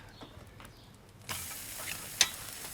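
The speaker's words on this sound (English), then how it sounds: "on it goes, and that's the noise that you want. You want a nice sizzle." A steak goes onto a grill and bursts into a hissing sizzle partway through, following a few quiet clicks. The sizzle is faint but steady, with a sharp tick near the end.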